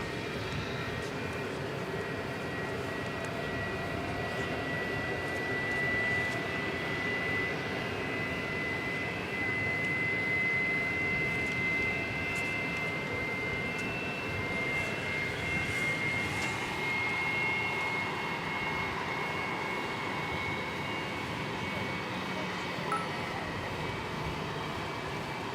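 Jet airplanes at DFW Airport roar in a steady, distant engine drone with a faint whine, sustained throughout and without talk.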